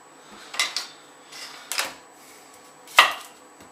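An onion being chopped with a knife on a board for carrot and coriander soup, with the bottom sliced off. Four or five separate, sharp knife strikes come close and fairly loud, and the last is the hardest.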